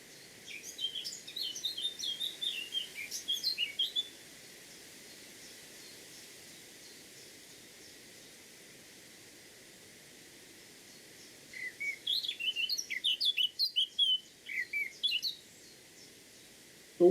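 A songbird with a gingery cap sings two bursts of rapid, varied, fluty phrases, somewhat blackbird-like in tone, separated by a long quiet gap over faint outdoor background noise.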